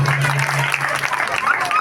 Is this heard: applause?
yes